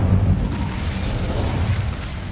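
A fire spell, Incendio, is cast in Hogwarts Legacy, giving a loud, dense roaring whoosh of flame with a heavy low rumble that holds steady for a couple of seconds.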